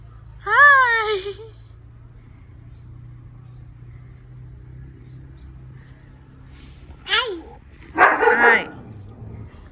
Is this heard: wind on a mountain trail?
no